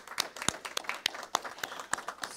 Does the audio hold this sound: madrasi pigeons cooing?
no